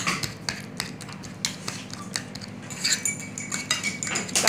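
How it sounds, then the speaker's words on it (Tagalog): Bananas being mashed with a metal utensil for a banana cake, heard as repeated clinking and scraping taps against a bowl in an uneven rhythm, close by, with no voices. "Durugin muna ang saging."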